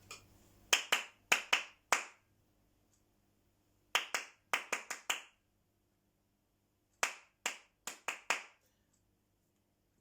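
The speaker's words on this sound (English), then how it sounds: "Don't clap that rhythm back." Hands clap short rhythmic patterns during a music lesson on rhythm and tempo, with crisp, close claps in four separate groups of three to five beats, separated by silence.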